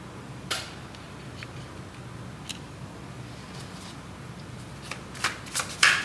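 A deck of tarot cards is shuffled close up in a continuous soft riffling, with a few sharper card snaps near the end and no voices.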